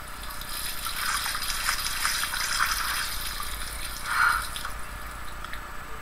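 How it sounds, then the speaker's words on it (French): A sink tap in the Life is Strange video game runs water in a steady stream, a gentle, continuous splashing that swells briefly near the end before fading, heard close with no voices. "Oh, l'évier. On va l'utiliser."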